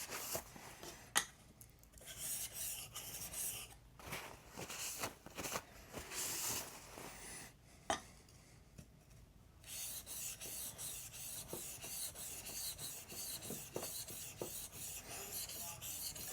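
Grit and swarf being brushed off a large sharpening stone, a soft, dry, continuous rubbing with short scrubbing strokes, close and quiet with brief pauses between passes.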